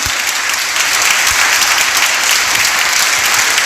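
Audience applauding at a book presentation, loud dense clapping from a crowd that holds steady throughout.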